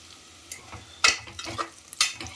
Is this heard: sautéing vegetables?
yes